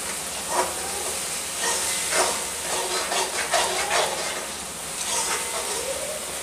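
Tomato puree hitting hot oil while masala bhindi cooks, a steady broadband hiss and sizzle with soft intermittent bursts as it is stirred, close and moderately loud.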